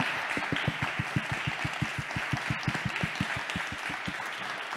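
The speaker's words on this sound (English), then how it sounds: "I just want to give a big round of applause to a couple of invisible workers at the back" Conference audience applause at a session on feminist perspectives on platform work, a rhythmic, fairly loud round of clapping that keeps a steady beat throughout, without speech.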